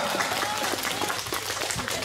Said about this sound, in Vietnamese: Xin chúng ta vỗ tay thật lớn ạ